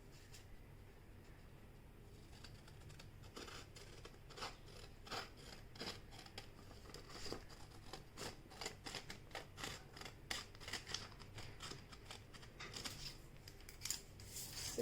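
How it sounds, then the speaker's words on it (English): Scissors snip steadily through a sheet of origami paper, cutting along a folded edge with repeated close crisp blade strokes and rasping paper sounds that grow busier toward the end, with no talking. "I'm going to cut the remaining part, taking the guidance of this edge"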